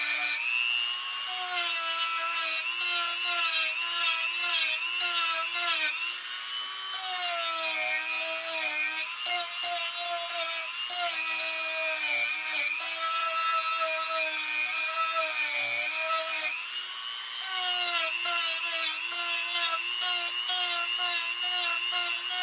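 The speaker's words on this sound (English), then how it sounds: "Now we'll sand this off some." Hand sanding on a carved wooden ventriloquist dummy figure, with steady back-and-forth rasping strokes in a continuous rhythm and brief pauses, close and fairly loud, with no talking.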